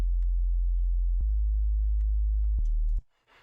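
A steady, pure low sine tone from a synthesizer's sub oscillator, loud and constant, briefly interrupted by faint clicks before cutting off, followed by a short burst of faint noise.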